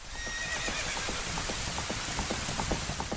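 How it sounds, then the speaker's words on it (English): A white horse gallops past in the opening scene of Ocarina of Time, with steady rhythmic hoofbeats under a rain-like hiss and a whinny near the start. "The drawbridge opens. A white horse rushes past."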